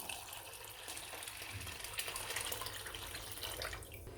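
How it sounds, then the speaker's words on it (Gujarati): A steady, gentle stream of water pours and splashes into a container of washed lentils, continuing unbroken from start to finish. "હવે પાણી ઉમેરીશું."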